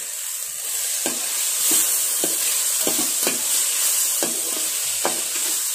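Chopped radish sautéing in a pan after tomatoes, a constant bright sizzle punctuated by regular scraping stirs of a spatula, close and clear with no voices.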